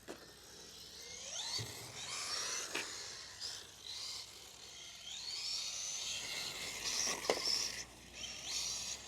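A Redcat Lightning STK RC car fitted with a 21.5 Justock brushless motor drives outdoors near sand, its motor whining and rising in pitch in repeated faint acceleration sweeps over steady background noise.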